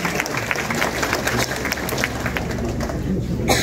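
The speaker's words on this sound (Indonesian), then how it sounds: "Selamat, tepuk tangan untuk kita semua." Applause from the audience at a university hospital's 13th anniversary ceremony in Yogyakarta, a steady wash of many hands clapping for several seconds, with a louder burst near the end.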